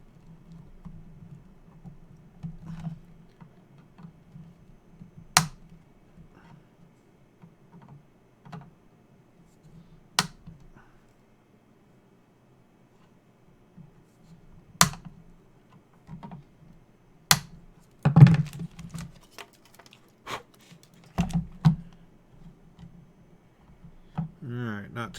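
Flush cutters snip component leads on a Commodore 128 circuit board: a handful of sharp, isolated clicks spaced several seconds apart, then a quicker cluster near the end, over a faint low murmur in a quiet room.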